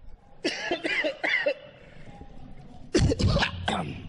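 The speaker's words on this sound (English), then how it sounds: "Smoker's cough, and I don't even smoke" Two bursts of harsh, raspy coughing close to the microphone, a short run of coughs, then a pause before a second throaty fit.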